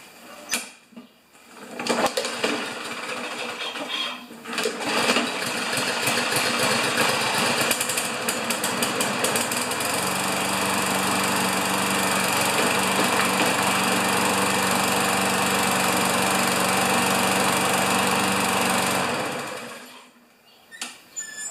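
Weedeater walk-behind lawn mower with a Briggs 500E engine and a homemade stop cable starts up and runs at a steady, loud drone for about seventeen seconds before cutting out and winding down.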